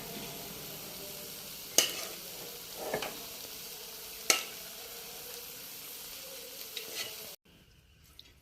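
Leftover chicken curry pieces go into a pan for a Kerala-style chicken roast, with a steady quiet sizzle and a few sharp stirring clacks and scrapes before the sound abruptly cuts off.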